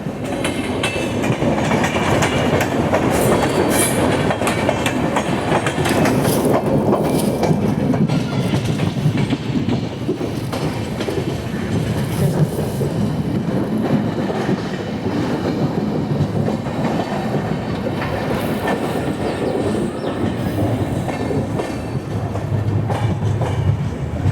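Visakhapatnam–Mumbai LTT superfast express on the move, heard from on board: a loud, steady rumble with rhythmic clickety-clack of wheels over rail joints running continuously throughout.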